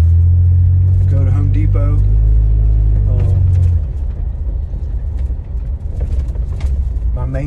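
Jeep Wrangler engine running with a low, steady rumble that drops in level partway through as the drive continues, under someone talking throughout.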